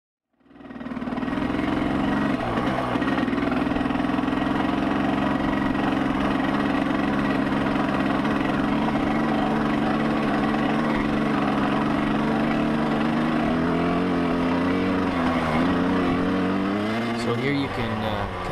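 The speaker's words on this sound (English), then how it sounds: "let's hear that engine a bit." A Yamaha YZ250 two-stroke dirt bike engine, warmed up and idling with a boggy carburetor, holds a steady buzzing drone close by for most of its run, then wavers and rises briefly near the end.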